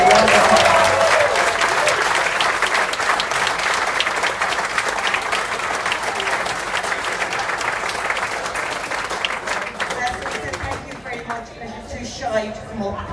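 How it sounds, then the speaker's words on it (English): Sustained applause from a crowd at a 50th anniversary celebration for Skerries A.C., an Irish athletics club, with dense steady clapping that thins out near the end while voices murmur underneath. "big round of applause to Skerries' 50th anniversary"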